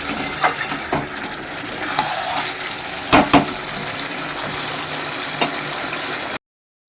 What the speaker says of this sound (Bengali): চিকেন এনেছে তো সেটাকে এখন কষানো হচ্ছে